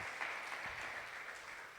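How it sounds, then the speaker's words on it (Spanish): Faint, steady applause from a church congregation, with clapping continuing evenly throughout and no talk over it. "déle ese aplauso al Señor."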